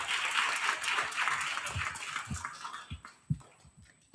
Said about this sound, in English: Please give Ravina and Ranveer another round of applause.